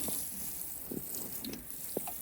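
Warm water is poured onto packed snow for a homemade rail during a snowstorm, a faint continuous trickle with a few soft splashy spatters over steady background hiss.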